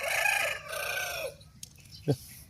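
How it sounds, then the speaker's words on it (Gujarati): A rooster crows once, loud and close, its drawn-out call fading after about a second, followed by quiet and a short dull knock. "કુકડા બોલે"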